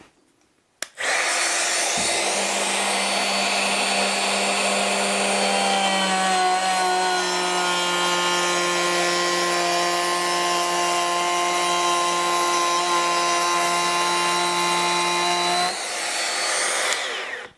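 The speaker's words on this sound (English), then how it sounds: "Even though you could hear the router low down, it's not had a detrimental effect on the cut at all." A Bosch GKF 12V cordless palm router cuts wood with a steady high-pitched whine that holds for about fifteen seconds, loud and close, then winds down at the end, with no talking.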